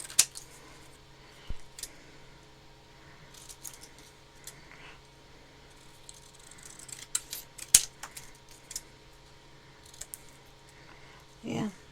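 Scissors cut through cardstock while a diamond gatefold card is made, giving a handful of faint, short snips scattered across a quiet room, with a brief rustle of card at the end.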